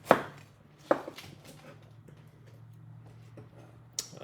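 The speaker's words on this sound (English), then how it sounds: "So you can just use your knife to lightly cut around there" A knife cuts around the inedible root of a cabbage head, giving a few crisp, separate crunching cuts close by with quiet pauses between them.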